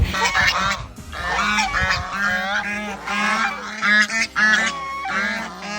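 Geese honk loudly and repeatedly in a noisy, overlapping chorus of harsh calls, with various foreign duck breeds mixed in, at a bird park in Moulvibazar, Bangladesh, and no one talking.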